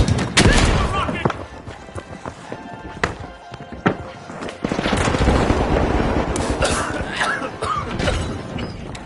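Rocket blasts and C4 explosions tear through a fast firefight in The Finals, with repeated loud booms and debris crashes over bursts of gunfire while an announcer talks over the chaos.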